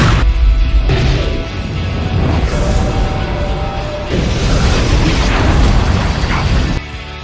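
A C4 charge shot and detonating in a video game, a loud, dense blast with rumbling debris and crashing that stays heavy for several seconds, then cuts abruptly before a quieter tail.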